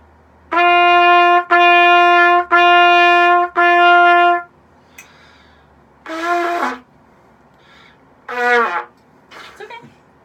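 A wind instrument sounds a sustained G four times in even, separately tongued notes, followed by a few shorter, rougher attempts at the note with brief pauses between them.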